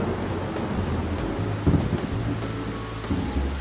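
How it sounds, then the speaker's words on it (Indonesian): A cartoon thunderstorm with rain fills the scene with a steady dense rush of downpour, low rumbling thunder swelling underneath and a few sharper cracks, loud and continuous throughout. "Iku badai."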